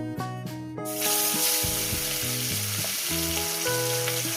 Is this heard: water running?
no